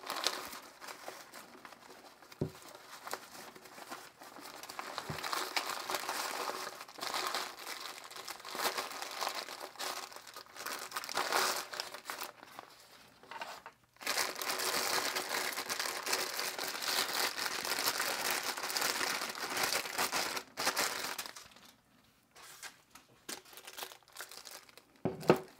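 A plastic bag holding a Ruittos RT-0525 tabletop tripod is opened, with bursts of close crinkling and rustling broken by brief pauses.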